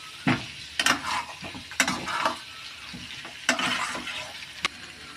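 Chicken curry stirred and sautéed in a pan: repeated scraping strokes of a spatula against the pan come in irregular bursts over a soft frying sizzle, close and fairly loud, with no talking.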